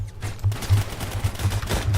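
Rapid automatic gunfire in the shooter game Phantom Forces, a dense string of punchy shots repeating steadily for the whole two seconds at a fairly loud, close level.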